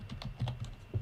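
Fingers tap a computer keyboard in a quick run of light, close keystrokes with irregular spacing, heard alone at a low level.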